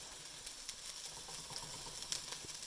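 Salmon, pasta and vegetables sizzle in a pan once the extra water cooks off, a steady faint crackling hiss with small pops throughout and no one talking.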